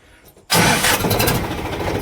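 A farm tractor engine catches after a moment of quiet, then settles into a loud, rough, steady diesel rumble close by.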